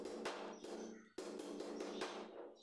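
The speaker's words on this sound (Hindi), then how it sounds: "और अब हम इनको फेविकोल लगा कर ठोक" Repeated thumping hammer blows drive glued wooden pieces together, a quick uneven series of knocks close by, with no talking.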